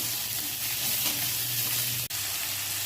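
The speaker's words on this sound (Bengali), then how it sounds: "টমেটোগুলোকে একটু নাড়াচাড়া করে নিতে হবে" Onions and tomatoes fry in a pan with a continuous close hiss and sizzle as they are stirred, the sound steady and loud throughout with one brief dip, no one talking.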